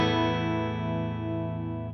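Electric guitar with a clean tone through a Mesa Boogie channel 1 amp capture on a Tone X, a single sustained chord ringing out evenly and close before cutting off.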